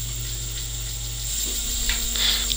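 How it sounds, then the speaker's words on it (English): An e-bike hub motor runs under an Arduino-based controller with a cruise setting, giving a steady close mechanical hum with a faint ratcheting texture that shifts slightly in pitch partway through. "if I twist this potentiometer, the motor should work"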